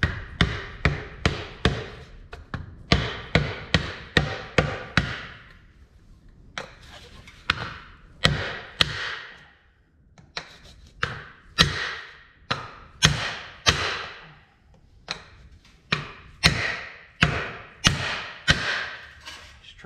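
Repeated hammer blows drive a universal-joint bearing cap into place through a length of PVC pipe on a 2012 Ford F-250, sharp close knocks in quick bursts of several strikes separated by short pauses.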